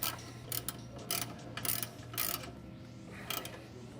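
A hand ratchet clicks in several short bursts while tightening the bolts on an SVE steering shaft in a Fox Body Mustang, close and crisp, with brief pauses between runs of rapid clicks and no talk.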